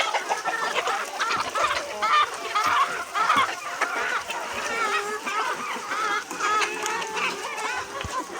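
Chickens clucking and squawking steadily nearby, a busy flock calling over one another for several seconds.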